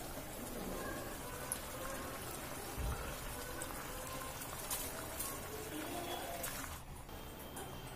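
Water boiling steadily in a pot while making fenugreek (menthya) pulao, a continuous dense bubbling hiss close by with a brief louder burst near the middle.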